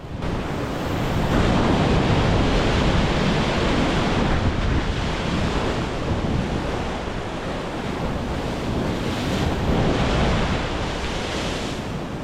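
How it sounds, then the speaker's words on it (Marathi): Rough sea waves crash on the Konkan coast near Harihareshwar, a loud continuous roar of surf mixed with heavy wind buffeting the microphone. "समुद्र बा किती जोरात खवळत आहे"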